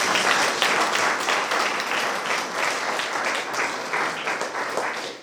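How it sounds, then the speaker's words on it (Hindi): A church congregation at a Holy Mass in Bishrampur applauds, a dense, sustained round of clapping that fills the space and slowly thins toward the end. "आइए एक दूसरे के लिए हम जोरदार तालियां बजा देंगे।"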